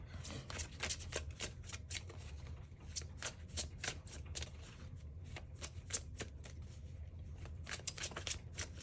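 A deck of oracle cards being shuffled nearby, a rapid run of crisp riffling flicks that continues steadily throughout with no talking.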